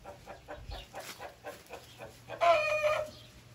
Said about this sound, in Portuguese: As galinhas estão tudo fugindo para lá, ó.